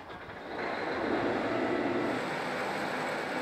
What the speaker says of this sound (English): It's the sound of a combine, a much-needed piece of equipment for farmers this time of year.